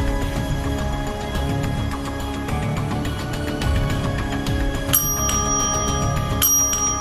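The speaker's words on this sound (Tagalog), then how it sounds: "Ito yung ghost bell." A small bell in a ghost bell magic trick rings brightly through a busy background, with two sharp, loud strikes near the end that linger as metallic overtones.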